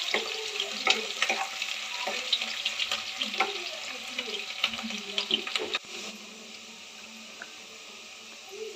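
Curry leaves fry in hot oil for brinjal masala, a steady close sizzle and crackle with scattered stirring scrapes, easing to a quieter, smoother hiss toward the end.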